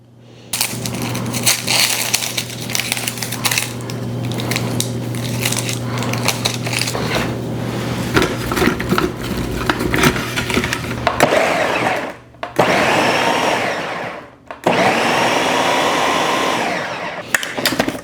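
Bell pepper, onion and jalapenos are chopped, most likely in a food processor or chopper, giving a steady whirring motor hum with bursts of crunching and clattering, then short gaps between pulsed runs.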